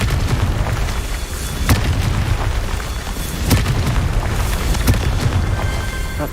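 Repeated booming blasts of the Confringo fire spell in Hogwarts Legacy, loud and close, with several sharp bursts over a dense, continuous rumbling roar.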